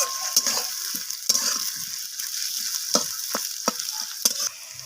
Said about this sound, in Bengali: তো আলুগুলোকে দিয়ে আমি লালচে করে ভাজা করে নিচ্ছি পেঁয়াজের সাথে।